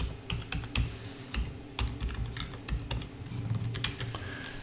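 Fast, uneven typing of a password on a computer keyboard while setting up Windows Server 2022 on Azure, with close, crisp key clicks sounding alone and without pause throughout.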